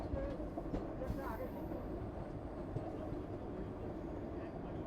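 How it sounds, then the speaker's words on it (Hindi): Vande Bharat Express passing on the rails as a steady, moderately faint rumble, with a brief rise near the start and no clear break through the passage. "और ये रही वंदे भारत एक्सप्रेस।"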